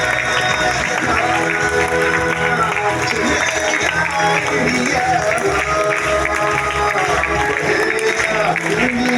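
Audience applause for someone speaker, a dense, continuous clapping crowd heard throughout, mixed with a voice speaking over it.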